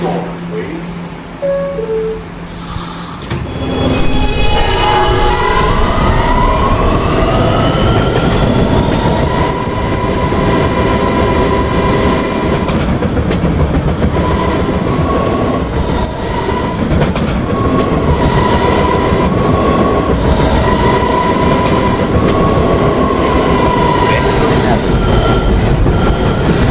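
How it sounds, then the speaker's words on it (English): An R211 subway train runs in the Roblox game PTA, a short chime followed by loud, continuous rolling rail noise with clickety-clack and a rising electric motor whine, while an onboard announcement voice plays. "This is a Ridgeworth Island bound R train via the N line."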